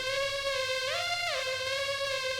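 Synth lead from a K-pop trap pop beat, turned up with extra effects, holding a steady buzzy tone that bends upward and back down once in a wavering glide, with a soft low beat underneath.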